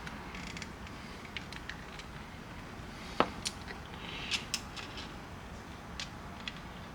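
A worn Action Army AAP TDC airsoft hop-up unit creaks and clicks as it strips, giving a few sharp, brief snaps and scattered small creaks at close range against a quiet background.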